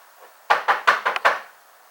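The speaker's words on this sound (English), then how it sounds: "and he knocks on the door." Five quick knocks on a wooden door, close and crisp with an uneven rhythm, in an otherwise quiet room.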